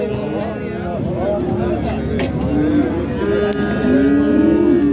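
At the Xaçmaz cattle market a calf gives several drawn-out moos in succession, close and loud over a crowd of voices and general market murmur.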